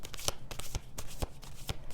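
A deck of cards being shuffled up close, a run of crisp riffling bursts and soft taps repeating in an uneven rhythm, with no speech.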